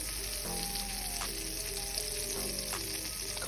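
Butter sizzles in a hot pot as defrosted corn goes in, a steady close frying hiss with a few stirring scrapes and clunks, no talking.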